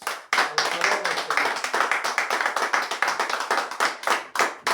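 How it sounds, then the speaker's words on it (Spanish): A church congregation claps after a Scripture reading during a Spanish-language service, with fairly close hand claps in loose bursts and brief gaps, some voices mixed in. "Un aplauso a la palabra de Dios."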